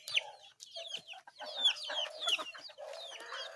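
Chickens cluck and squawk in a farmyard during vaccination, with a broodcock among them. The calls come as a busy, irregular run of close clucks and short cries, and no voices break in.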